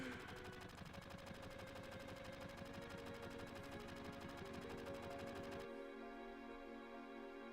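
Sustained rapid gunfire from Barrett's gun-arm in Final Fantasy VII, a dense continuous rattle with music underneath, cutting off abruptly near the end and leaving only the music.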